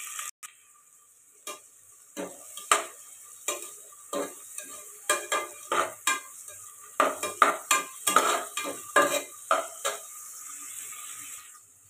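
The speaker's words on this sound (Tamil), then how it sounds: "வெங்காயம் சேர்த்து நல்லா கிளறி விட்டுடலாம்." Onions and fennel seeds frying in hot oil are stirred repeatedly, a spoon scraping the pan in quick irregular strokes over a steady background sizzle, fairly close, with no voices.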